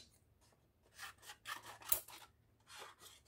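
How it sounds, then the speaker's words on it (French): Scissors snip through milk-carton cardboard in a handful of short, crisp cuts spaced apart, close up and fairly quiet, with no talking. "Il faut que je les coupe ça."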